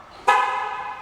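A 2008 GMC Yukon XL sounds a single short horn chirp as it locks, a sudden close toot that fades over under a second, with no talk.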